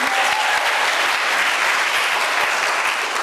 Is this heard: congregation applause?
yes